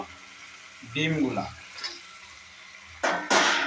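Eggs are stirred into masala frying in a pan: a quiet background sizzle broken by a spoon scrape near the start and louder bursts of hissing and stirring at the end.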